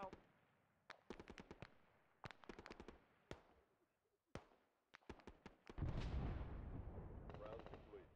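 Artillery fire in a video game, with high explosive and white phosphorus rounds landing as a series of sharp bursts and thumps at irregular intervals, followed by a sustained loud rumbling impact.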